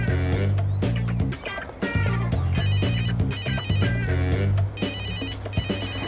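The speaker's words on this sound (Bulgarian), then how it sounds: "Щото му звънна телефона." A mobile phone rings during a tense police stakeout scene in a Bulgarian film, a loud, continuous, repeating electronic ringtone that plays without pause alongside dense musical tones.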